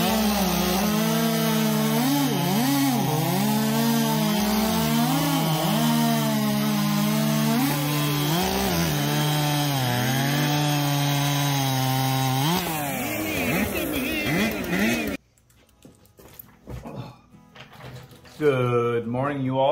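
A chainsaw cuts timber in a chainsaw race, its engine whining loud and wavering in pitch as it bites, then cutting out abruptly, followed by quieter scattered handling noises.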